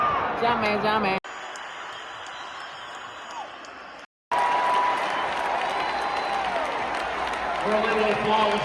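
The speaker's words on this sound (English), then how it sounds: "Early applause" Crowd applause and noise in a basketball arena during a Celtics game, a steady wash of clapping and murmur with a brief dropout partway through and a faint announcer-like tone underneath.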